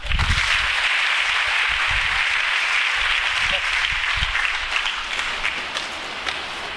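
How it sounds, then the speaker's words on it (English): An audience of engineering college students gives a student a sustained round of applause during a motivational session, a dense steady wash of clapping that stays loud throughout, with faint voices mixed in. "Give him a big clap."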